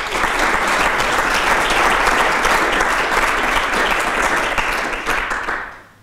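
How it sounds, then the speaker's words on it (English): Sustained applause from a lecture audience at a talk on EU economic policy and Brexit: a dense, steady roar of many hands clapping that holds for several seconds and then fades away. "I think you have deserved a big round of applause."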